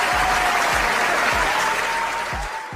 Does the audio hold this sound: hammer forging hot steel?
no